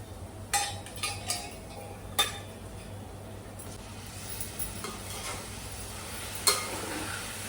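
Mutton pieces with tomatoes and chili frying in oil in a home kitchen pot, a low steady sizzle under occasional sharp clinks and scrapes of a stirring spoon against the pan.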